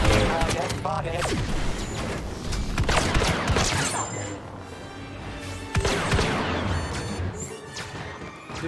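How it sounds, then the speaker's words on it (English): Blaster gunfire in a Star Wars Battlefront video game battle on Naboo, with repeated sharp shots and crashing impacts that come in clusters over a rumbling background, with game voices speaking in between. "Shooting."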